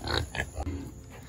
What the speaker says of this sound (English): Pigs. We gotta feed them, but they're pretty much good.